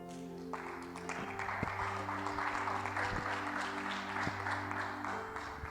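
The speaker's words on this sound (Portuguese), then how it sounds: "Fique de pé e vamos aplaudir o Senhor." A church congregation stands and applauds the Lord after a Christian teaching session, a steady wash of clapping held throughout with sustained music tones underneath and occasional low thumps.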